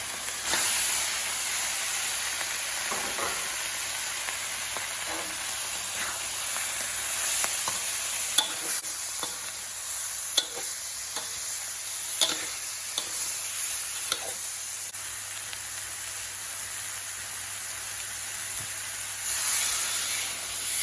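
Climbing perch fish stir-fried with red curry paste in a pan, a steady close sizzle throughout with intermittent scrapes and clinks of the utensil, no talking.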